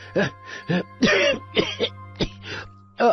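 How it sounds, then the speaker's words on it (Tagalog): A run of harsh, raspy coughs and throat clearings, close and loud, coming in short bursts with brief pauses between them. "Hindi na kasi ako tinitigilan ng ubo kong ito."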